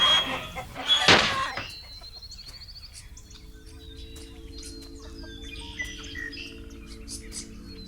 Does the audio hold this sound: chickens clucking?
yes